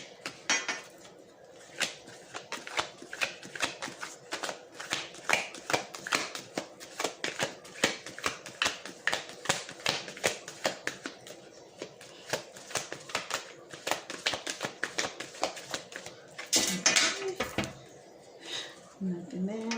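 Tarot cards being shuffled in long runs of rapid riffling clicks, close and steady, with a short pause and shifting handling noise near the end.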